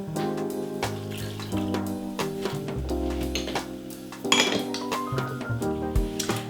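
Half a cup of water poured into a beef patty mixture with Worcestershire sauce for apple beef burgers, with brief watery splashing and utensil clinks under a steady music bed.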